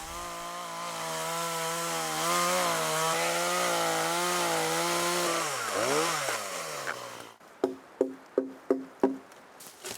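Chainsaw milling a flat side on a log while building a remote off-grid cabin: a loud, steady close-up engine drone holds for about seven seconds, dips and revs down, then a run of five or six sharp knocks follows.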